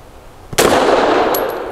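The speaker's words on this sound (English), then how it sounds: "Much softer shooting." A single loud, sharp shot from a Grand Power P45L pistol, close up, with a long ringing decay and a faint metallic tinkle near the end.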